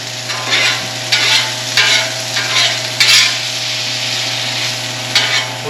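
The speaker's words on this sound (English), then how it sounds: "we're going to take our freshly cut up ramps and we're going to go ahead and put them right on here" Freshly cut ramps frying on a Blackstone griddle, a steady close broadband sizzle with periodic louder bursts as they are stirred and moved around the hot surface, no talking.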